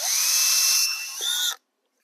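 A power drill boring into foam whines at high speed for about a second and a half, its pitch shifting slightly midway, then cuts off abruptly into silence.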